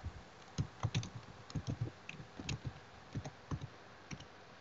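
A computer keyboard gets typed on during password entry, a quiet close run of uneven plastic key clicks in short bursts with no voices.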